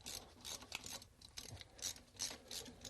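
Socket ratchet clicking in quick bursts while loosening a front brake hose banjo fitting, close and fairly quiet, with short pauses between strokes.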